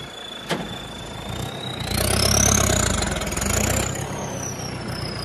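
A tractor engine running during a stunt, a low steady idle that revs up louder and then settles, with a sharp knock near the start.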